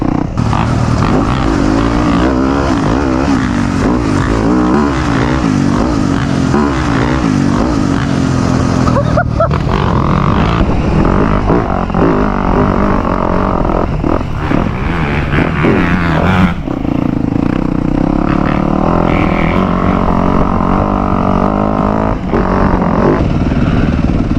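A 2025 Yamaha YZ250F dirt bike engine runs loud and continuous for over twenty seconds, its pitch rising and falling with the throttle while the rider moves, with buffeting wind noise throughout.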